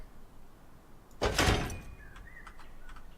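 A garage door in the video game Rust slides shut with one heavy rolling thunk midway, followed by a few faint tonal chirps over quiet background hiss.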